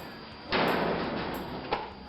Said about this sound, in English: See the door opening and closing.